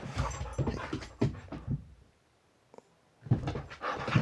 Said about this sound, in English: Scram, get out of here, you scrappy dog.